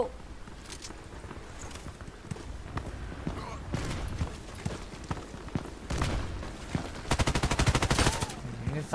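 Gunfire in the online shooter Contract Wars, with an AK-12 rifle in play, comes as scattered single shots and then rapid automatic bursts that grow louder toward the end, mixed with footsteps and other game sounds.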